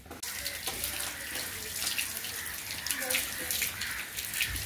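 Water running from a tap during household washing, a steady close hiss and splash with small gurgling changes as items are rinsed under the flow.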